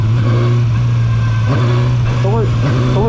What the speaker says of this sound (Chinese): 你们听发动机的声音